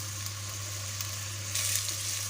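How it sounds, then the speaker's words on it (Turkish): Onions and potatoes frying in olive oil in a pressure cooker, a constant close sizzle with a low steady hum beneath and a brief louder crackle of stirring near the end. "Şimdi güzelce kavuruyoruz arkadaşlar patates ve soğanlarımızı."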